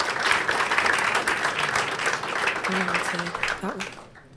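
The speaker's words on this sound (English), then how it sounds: "Round of applause for the team" A crowd applauds steadily, dense clapping that fades out at the end, with a voice speaking briefly near the close.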